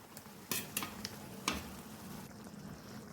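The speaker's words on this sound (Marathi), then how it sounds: "सगळे चिकनचे पीस आपण मसाल्यामध्ये व्यवस्थित मिक्स करून घेतलेले आहेत" Fried chicken pieces are stirred into a simmering masala in a kadhai with a spoon, giving a few sharp scraping strokes against the pan over a soft, steady sizzle.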